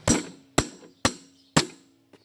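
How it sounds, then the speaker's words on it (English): A socket wrench tapped to loosen a nut while a strap wrench holds the part, giving four sharp, evenly spaced metallic knocks close up, followed by a fainter fifth tap. "Then you give your socket wrench a little tap."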